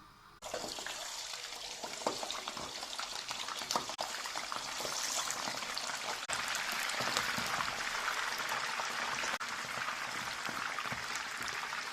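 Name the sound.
chicken frying in hot oil in a kadai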